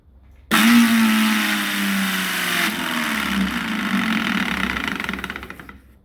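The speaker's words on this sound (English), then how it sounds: "what you're also going to notice is the change in the pitch when the motor is running" A Black & Decker MM 875 electric lawnmower motor starts abruptly and runs steadily as a loud, continuous whine with a slight pitch change, its blade not turning with the motor because of a worn, stripped center washer.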